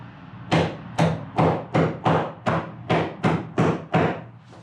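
A Hitachi nailer firing nails into a board, nine sharp, punchy shots in a quick, fairly even rhythm, close and clear with no talking.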